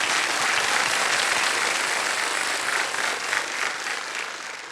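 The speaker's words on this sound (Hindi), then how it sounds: "एक बार तालियां बज जाए उनके" Sustained studio audience applause on the KBC game show set, a dense even wash of many clapping hands that stays loud throughout and eases slightly toward the end.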